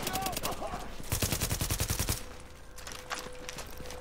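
Rapid automatic gunfire from Tom Clancy's The Division, a dense burst of evenly spaced shots for about a second, with scattered shots before and after, close and loud over game ambience.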